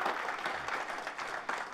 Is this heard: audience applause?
yes